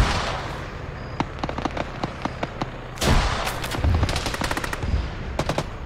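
Rapid bursts of automatic gunfire and single shots in an Arma ShackTac military game session, loud crackling volleys over a steady background rumble, with a denser flurry of shots in the second half.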